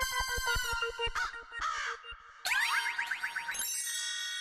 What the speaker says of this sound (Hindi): लीजिए, कौवे तो आ गए।